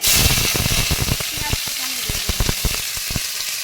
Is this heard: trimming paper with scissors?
no